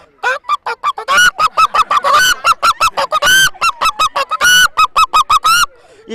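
A human voice imitates a hen angrily attacking a dog, giving a rapid run of loud, harsh squawks and honk-like cries in close succession, alone with no other sound.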